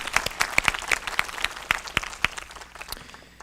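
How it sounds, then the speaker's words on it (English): A small audience at a school district press conference applauds with scattered, distinct claps that start fairly lively and then thin out toward the end. "Yeah, that's worth applauding."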